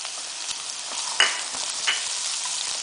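Capsicum, carrot and corn sauté on high flame in a pan, a loud, continuous close sizzle broken by a few sharp clinks of a stirring utensil.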